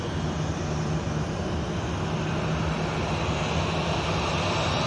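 A Ryanair jet at Manchester Airport spools up its engines for take-off, a loud, steady roar with a broad rushing hiss and a low drone that holds without a break.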